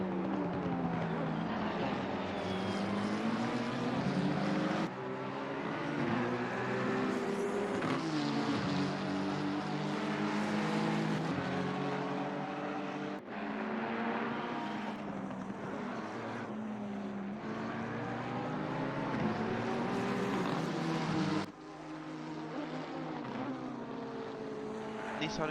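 Sim racing race cars, a Nissan and a McLaren battling in a four-hour endurance event at Zolder, with steady loud engine drone and shifting pitch sweeps throughout, continuous and close.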